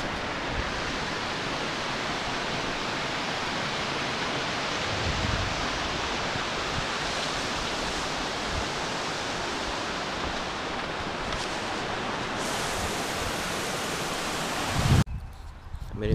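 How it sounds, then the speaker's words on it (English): Steady, full-spectrum roar of Comer Creek Falls in Virginia, close and constant, ending with a brief rustle. "here's Comer Creek Falls."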